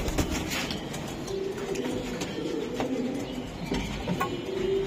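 Racing pigeons from a club loft coo repeatedly in low, throaty, warbling calls, several overlapping over a constant background hum, close by.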